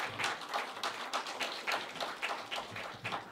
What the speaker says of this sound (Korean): 힘찬 박수와 함께 시작하겠습니다